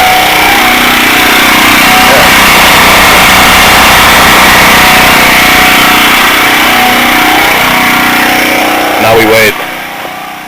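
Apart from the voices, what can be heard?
portable generator running down after fuel shut-off, under load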